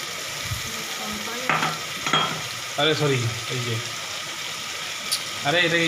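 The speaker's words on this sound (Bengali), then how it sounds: "দিয়ে ওটাকে একটু নাড়াচাড়া করবো, যাতে ভাজা ভাজা হয়ে যায় একটু পেঁয়াজটা" Crushed onion and green chili fry in hot oil with a steady sizzle while a spoon stirs and scrapes the pan, and a voice talks intermittently over the cooking.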